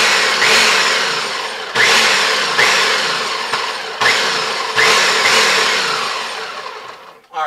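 A food processor pulses Cajun crab dip ingredients in five loud bursts of whirring blades, each starting sharply and fading before the next, with a brief pause between them.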